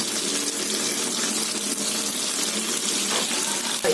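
Mutton handi kebabs fry in a pan over a medium-to-high gas flame, making a loud, steady, close sizzle that holds evenly throughout with no talking.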